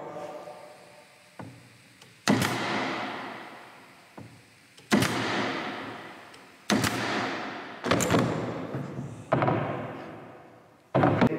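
A Cadex 23-gauge pin nailer, about ten years old, fires nails into a piece of maple hardwood: about six sharp, loud pops at irregular intervals, each with a short decaying ring, over a faint background hiss.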